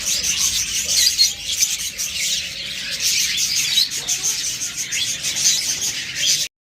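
A flock of lovebirds at a bird sale keeps up a dense, continuous chatter of high chirps, close and steady, with a few longer whistled tones.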